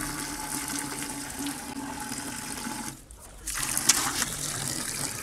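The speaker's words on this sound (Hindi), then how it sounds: "इसलिए पानी निकल रहा है इसमें।" Water gushes steadily from a tap, a continuous broadband rush with a brief drop in flow midway before resuming, close by.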